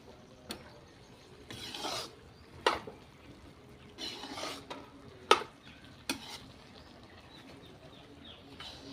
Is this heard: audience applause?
no